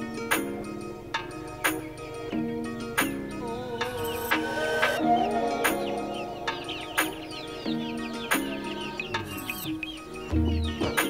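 Free-range village chickens in a backyard run cluck close by in repeated short bursts, with a rooster-like call among them and scattered bird chirps around them, all without any talk.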